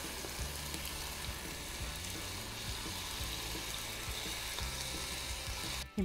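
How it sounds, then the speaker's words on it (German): Meat pieces sear hard in a hot Dutch oven, a steady close sizzle and crackle with faint scraping stirs, ending in a brief clatter. "Also schön scharf von allen Seiten ein bisschen anbraten."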